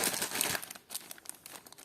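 A small plastic bag crinkles close by while a parcel of vintage pearl jewellery is unpacked, giving a dense rustle at first and then softer, scattered crackles.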